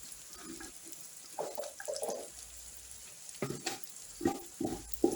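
A utensil scrapes fried rice around a hot pan in a series of short, close scratches and clatters over a low, steady sizzle.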